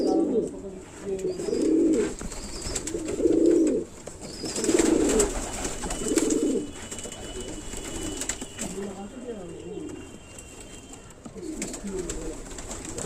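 Madrasi pigeons coo in repeated soft, low phrases close by, while a faint hum and light background noise continue between the calls.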